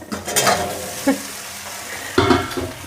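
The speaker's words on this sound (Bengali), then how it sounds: "এবার হচ্ছে আমি সবজিটা ঢেলে দিই। এখানে আছে ঢেঁড়স ডাঁটা আর সজনে ডাঁটা" Okra, stems and drumsticks hit a hot pan for a mixed vegetable dish, giving a close burst of sizzle and clatter, a brief scrape, then another loud splash of frying as more goes in.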